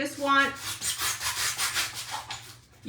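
A new knife trims the excess off a shoe-shaped stretcher for a DIY vintage shoe stretcher, giving a close run of about eight rhythmic scraping strokes that slow and fade toward the end, with no talking over them.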